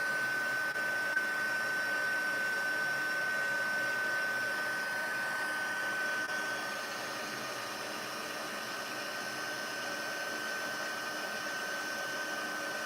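A heat tool for colour embossing runs continuously with a steady whirring blow and a faint high whine, its level dipping slightly partway through, with no talk over it.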